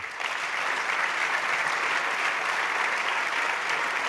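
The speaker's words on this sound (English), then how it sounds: "Please, one more round of applause for them." Continuous audience applause for the foundation team at the Reagan National Defense Forum closing session, a dense, even roar of many hands clapping throughout.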